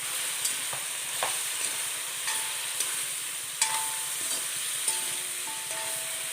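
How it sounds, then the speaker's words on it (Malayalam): Bitter gourd sautéing in a pan for pavakka perattu, a constant bright sizzle with occasional scrapes and clinks of a spoon stirring it. "ഇതിലേക്ക് എടുത്തു വച്ചിരിക്കുന്ന പാവയ്ക്ക ഇട്ട് കൊടുക്കുക പാവയ്ക്ക അതിൽ കിടന്നൊന്ന് വഴഞ്ഞു വരണം"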